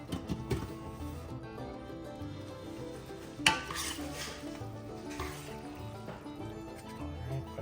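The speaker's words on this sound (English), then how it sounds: "we're gonna go and throw the pasta in there and toss it in the pasta" Pasta is tossed in a pan of Cajun jerk Alfredo sauce, with soft scraping, clinks and sloshing stirs at a quiet level and one sharper clatter midway.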